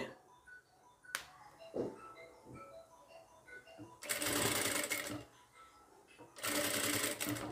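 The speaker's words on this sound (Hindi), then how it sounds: "जब गुलाई में रहेंगे तो एकदम आराम से सिलाई चलाएंगे ऐसे" Bursts of a domestic sewing machine running a half-inch seam around the curve of a Sabyasachi-style blouse, two loud stretches of stitching separated by quieter handling, with someone talking in between.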